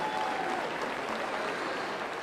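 Crowd at a youth fair market hog show clapping for the class winners, a dense, sustained round of applause from many hands, steady and fairly close.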